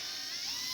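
A handheld power drill running in reverse to back a screw out, a steady high-pitched whirring motor with no gaps, loud and close, with no voices.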